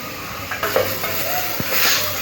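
Boiled mutton and softened tomato sizzle and fry in a pan for Dindigul-style mutton biryani, with steady hiss, a few stirring scrapes and soft clinks close by.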